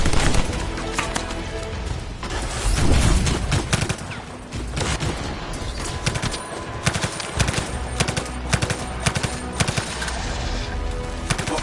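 Turrets in a video game fire nonstop: dense, loud automatic bursts that rattle steadily for the whole stretch, with no voices over them.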